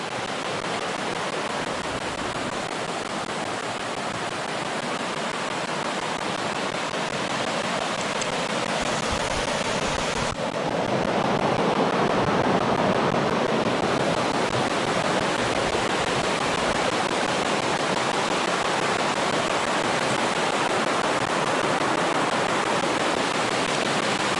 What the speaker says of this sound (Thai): ถึงแล้วน้ำตก